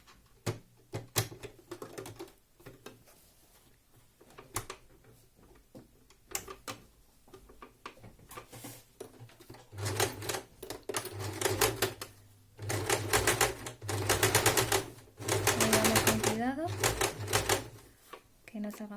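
A sewing machine with a universal presser foot stitches a parallel topstitch along a front pocket, giving rapid mechanical bursts in irregular runs that turn loud and sustained in the second half, with a voice speaking between runs.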